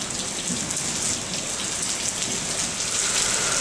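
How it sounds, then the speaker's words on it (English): Steady rain falls on a surface during a summer rainstorm, with drops coming off a roof: a dense, continuous hiss of patter, fairly close and unbroken for the whole stretch, with no talk. "And raindrops coming off the roof."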